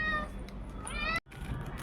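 A pet cat meows insistently for snacks while being fed: a couple of clear, close, drawn-out meows, then a short break and softer rustling afterward.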